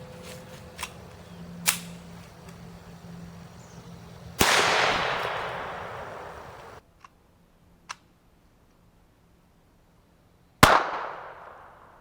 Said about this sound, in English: We're going to run the 22 long rifle first.